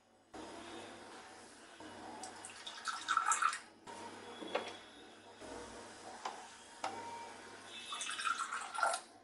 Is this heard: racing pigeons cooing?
no